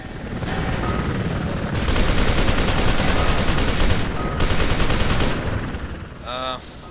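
Dense, loud automatic gunfire in a firefight in the shooter game FEAR 2, running as long continuous bursts with a brief lull midway, then fading into a short rising electronic tone at the end.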